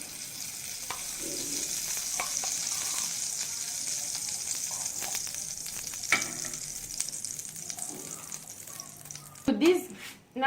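Ghee sizzles in a pan for a tofu ghee roast, a continuous bright frying hiss with occasional utensil clicks, and a louder clatter near the end.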